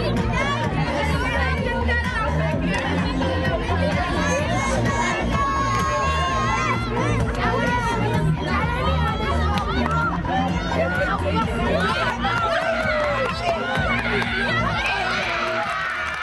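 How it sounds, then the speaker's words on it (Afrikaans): Spectators crowd a small-town netball and rugby day in Stilbaai, a steady roar of chatter, shouts and cheering from many voices filling the whole stretch, with children's calls rising above the busy open-air hubbub. "Lyk my hierdie is 'n netbal en 'n rugbydag met 'n klomp toeskouers."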